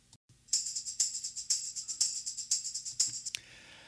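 Tambourine jingles played in a steady pulse through a light overdrive plugin, slightly gritty and distorted, bright and close, ending in a brief fade.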